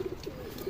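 A pigeon coos briefly, a soft low throaty burble repeated a few times, close and moderately quiet.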